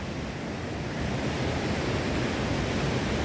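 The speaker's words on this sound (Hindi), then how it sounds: "और ये सुपिंड नदी" Steady roar of the Supin river rushing through a Himalayan valley on the trek to Osla, a dense, unbroken wash of water noise with no voices.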